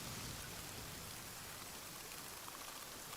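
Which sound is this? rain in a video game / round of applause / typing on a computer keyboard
rain in a video game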